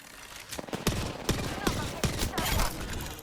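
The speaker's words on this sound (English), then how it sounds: "Opening fire" Automatic gunfire in the Apex Legends video game rattles out in a series of sharp, closely spaced shots over about three seconds. The shots are loud and near, with the bursts falling in a rough, uneven rhythm.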